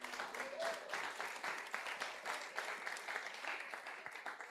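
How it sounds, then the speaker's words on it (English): Applause from an awards ceremony audience rises briefly, with rapid overlapping claps at moderate distance and some voices mixed in. "Yes, clap her."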